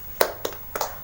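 Three crisp hand claps in an irregular rhythm make up a classroom focus-clap routine, close and moderately loud with no voices.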